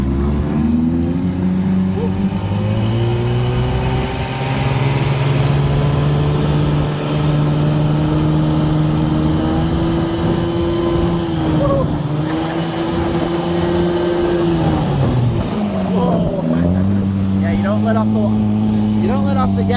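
A small boat's outboard motor drones steadily close by and swells as it accelerates, then briefly dips near the end before picking up again, with a voice talking over it.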